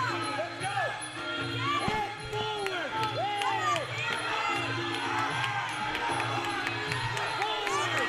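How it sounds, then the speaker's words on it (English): Crowd at a lightweight MMA championship fight chanting back and forth for the two fighters, rhythmic voices rising and falling across the arena, heard under busy commentary and crowd babble with occasional sharp thuds. "You can hear the crowd just chanting for both these guys back and forth."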